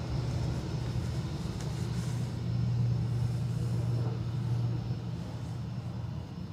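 An Airbus A321XLR arriving from Heathrow at Dublin Airport rumbles past at a distance, a steady low engine drone that swells slightly in the middle before easing off.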